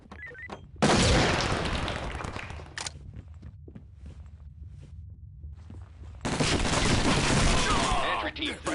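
SWAT 4 gunfire comes in two long, loud automatic bursts, one early and one near the end. Between them, quieter scattered shots and footsteps can be heard.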